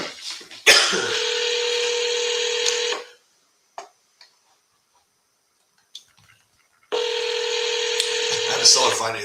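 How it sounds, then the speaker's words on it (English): Telephone dialing tones on a phone line during live calls to property sellers: two long, steady tone bursts of about two seconds each, separated by several seconds of near silence. "Let's actually start double dialing."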